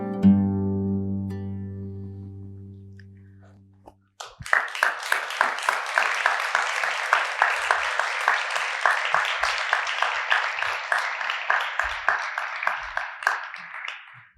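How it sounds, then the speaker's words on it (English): Audience applause for the participating women at a food event, rising suddenly after a few seconds of a held tonal sound and continuing as brisk, steady clapping from a group until the end. "the applause is really for the women who participated here"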